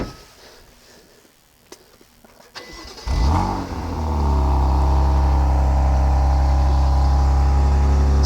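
A BMW M2 CS or Porsche 718 Cayman GT4 sports car engine cranks and fires up at a track after quiet ambience, then settles into a loud, steady, close rumbling idle with a raised rev.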